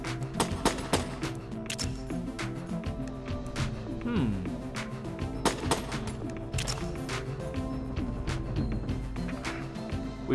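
Rapid gunfire from the video game Enter the Gungeon erupts during a shootout inside the in-game shop, sharp repeated shots and bursts layered over game music.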